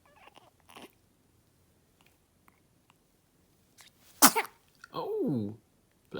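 A newborn baby lets out one big, sharp sneeze after quiet moments with soft small sounds, followed by a brief whimpering cry; the sneeze is loud and close.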